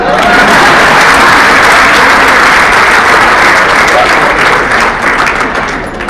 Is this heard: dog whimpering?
no